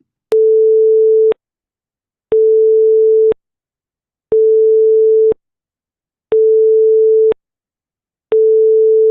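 Five identical pure sine tones with different phases, played one after another, each lasting about a second with a click at onset and offset and a second of silence between them, loud and steady like a busy signal.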